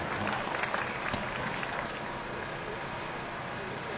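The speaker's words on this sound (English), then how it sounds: "Give the sound people a round of applause, ladies and gentlemen" Crowd applause along a Veterans Day parade route in Fayetteville, North Carolina: dense, steady clapping that fills the whole stretch, a little stronger at the start and then holding evenly, with faint voices mixed into the crowd.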